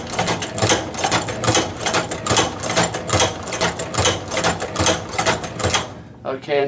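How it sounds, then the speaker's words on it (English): A hand-operated leather sewing machine works through material in a steady, rapid series of mechanical clacks and thumps that stop abruptly near the end, followed by a voice. "I'm going to go ahead and continue sewing."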